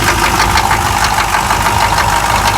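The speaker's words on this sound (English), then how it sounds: "Crank that baby up." Diesel engine of a K5 running after the glow plugs are heated, a loud, close, steady rough clatter with knocking idle throughout.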